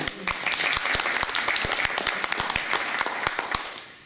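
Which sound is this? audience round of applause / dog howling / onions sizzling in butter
audience round of applause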